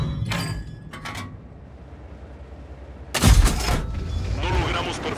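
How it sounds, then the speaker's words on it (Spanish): Tank shell ricocheting off armor in the World of Tanks video game, a Matilda match on a mountain pass map: sharp metallic impacts and a loud crashing burst, with booming combat noise trailing behind. "El disparo rebotó."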